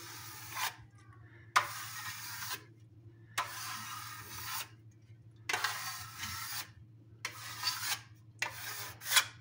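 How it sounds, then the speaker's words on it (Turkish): Steel trowel polishing a marble-effect coating on a kitchen backsplash between counter and cabinets, sweeping in horizontal strokes: five separate bursts of scraping rasp, each one to two seconds long, over a steady low hum. "sadece malayla parlatacaksanız ikinci katı çektikten sonra hafiften kurumaya başlayınca böyle yatay hareketlerle"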